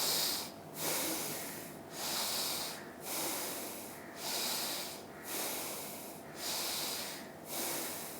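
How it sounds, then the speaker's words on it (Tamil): Slow, deep yoga breathing during a seated exercise: about seven long breaths in a steady rhythm, each a soft, airy hiss through the nose, close and fairly quiet, with no talking. "நல்ல மூச்சு வெளியிடுங்க."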